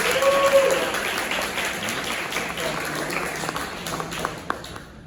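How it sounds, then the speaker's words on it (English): An audience at a diversity candidate forum applauds for a county legislative candidate, a steady, fairly close wash of clapping that fades slowly, with a brief voice at the start and a few louder individual claps toward the end. "come on, big round of applause"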